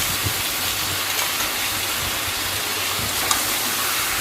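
Spice paste of ginger, garlic, green chilli, tomato and cumin sautéing in a pan for a chicken curry, giving a steady broadband hiss and sizzle with faint low clatter, no voices.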